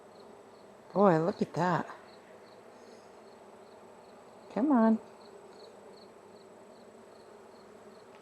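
Honey bees hum around a hive frame during a late-season requeening, a faint, steady buzz running throughout beneath two short bursts of nearby talk.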